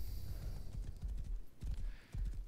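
Horse hooves clip-clop in steady uneven clusters in the Rust video game, close and fairly loud, with no talking.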